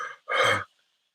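A voice imitates hard, labored breathing: a single heavy, breathy exhale lasting under half a second, close and fairly loud, following a brief trailing word.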